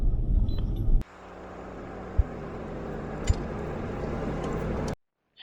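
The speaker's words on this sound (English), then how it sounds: "We enjoy our test drive." A Land Rover Discovery 3 with the TDV6 diesel on a test drive gives a steady cabin drone of engine and road noise for about four seconds, marked by a couple of sharp clicks, before it cuts off abruptly.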